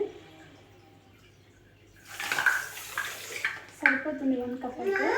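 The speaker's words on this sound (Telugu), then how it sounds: "ఇదే కప్పుతో 1 కప్పు వాటర్ యాడ్ చేసుకోవాలి." A cup of water is poured into a kadai of sugar. A quiet moment gives way to a splashing pour with light clinks of utensils, while a voice speaks over it.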